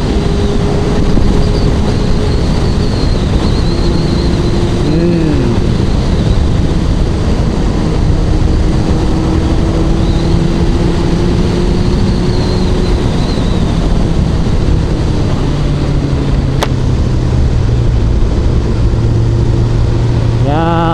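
A Honda CBR1100XX Super Blackbird rides a summer mountain road, its engine whine rising and falling with gear changes beneath a constant loud rush of wind across the microphone.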